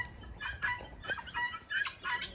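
Several hens cluck in short, irregular bursts, close by and fairly loud, with brief pauses between the calls.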